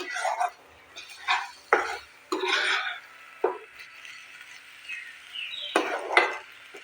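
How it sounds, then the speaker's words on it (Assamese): Spoon scraping and clinking against a pan while stirring a thickening coconut mixture for coconut peda, intermittent close scrapes and taps in a quiet kitchen with no voice. "এই নাৰিকলখিনি ডাঠ হৈ আহিছে আৰু অলপ সময় লাৰিব লাগিব।"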